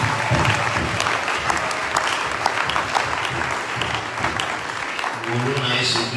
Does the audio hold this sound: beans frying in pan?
no